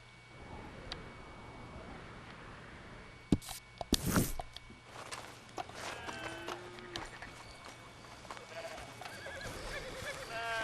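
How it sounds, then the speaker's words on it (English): A horse in Red Dead Redemption 2 clip-clops and then neighs in a drawn-out, wavering whinny, with sharp knocks and scuffles just before, all moderately close over a quiet outdoor background. "Now what I need to try and do is get back to my horse."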